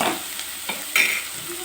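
Vegetables such as carrot and capsicum stir-fried in a pan: a few distinct scraping stirs over a soft, steady sizzle, close and moderately loud.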